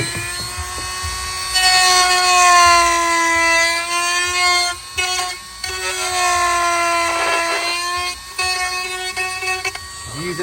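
A Dremel rotary tool grinding down plastic tabs on a Honda ATV airbox, a high whining tone that dips and rises with load across several close, loud passes, briefly pausing between them.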